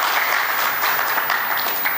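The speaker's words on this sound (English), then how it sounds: "So give yourself a round of applause." An audience at a talk on women investors claps steadily in dense, sustained applause that holds at an even level for the whole stretch, with no speech over it.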